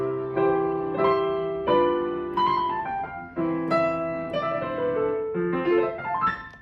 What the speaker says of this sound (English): you can create really cool harmony like this